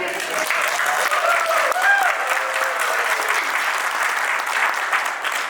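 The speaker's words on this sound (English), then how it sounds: "y'all all have to cheer for yourselves here" An audience at a business leadership award ceremony claps and cheers in a dense, sustained wave of applause that stays loud and even from start to finish.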